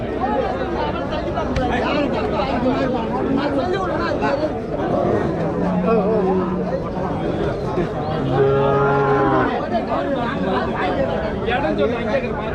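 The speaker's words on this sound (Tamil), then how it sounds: "எல்லாமே கிடாரி பசுமாடுங்க" Heifers and cows at a busy cattle market, with a couple of short moos rising out of dense crowd chatter and talking voices that run throughout.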